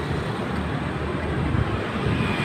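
Steady motor vehicle traffic noise on an outdoor street among buildings, a constant broadband rumble close by with no distinct passes standing out.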